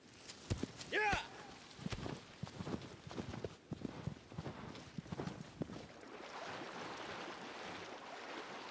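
Agro, the horse from the video game Shadow of the Colossus, clops along in a quick run of hoofbeats, with a whinny early on. The hooves fade into a steady rushing ambience as a person talks over the game.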